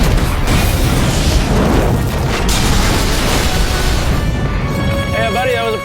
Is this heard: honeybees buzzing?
no